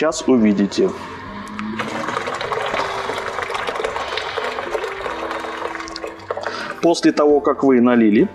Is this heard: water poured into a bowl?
yes